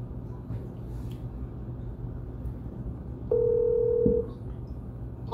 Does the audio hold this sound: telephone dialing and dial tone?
yes